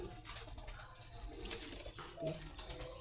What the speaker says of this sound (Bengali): এই যে আমার ভাইদের কবুতর দেখতেই পাচ্ছেন, একটি খাঁচার ভিতর দিয়ে ফেলছে।